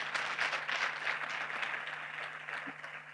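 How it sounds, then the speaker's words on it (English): A seated audience at a business event claps together, a dense, even patter of many hands that holds steady then tapers slightly, with a faint low hum beneath. "Please give a very round applause for that."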